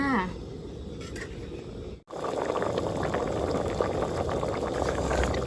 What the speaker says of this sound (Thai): รอให้ให้หมูของเราเดือดอีกครั้งจ้า